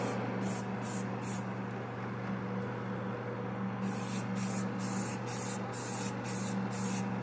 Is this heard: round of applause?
no